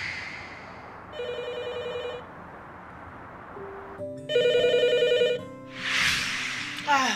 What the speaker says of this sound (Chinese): 我说你们几个，谁的电话谁接一下呗。